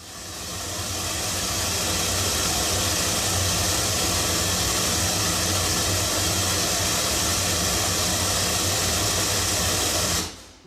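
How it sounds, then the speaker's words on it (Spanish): Pink noise test signal plays through Focal studio monitors as a loud, steady broadband hiss that swells in at the start, holds evenly for about ten seconds, then cuts off abruptly. "Voy a reproducir otra vez ruido rosa para que lo veáis."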